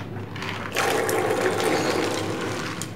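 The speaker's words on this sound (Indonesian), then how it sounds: "Kita masukkan kacangnya." Raw peanuts poured into a pan for garlic-flavored kacang bawang: after a short quiet lead-in, a close, dense rattling pour of nuts starts and keeps going steadily to the end.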